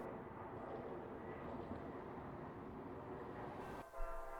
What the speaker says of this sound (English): Our next train is Amtrak 11, Coast Starlight service from Seattle, Washington to Los Angeles, California.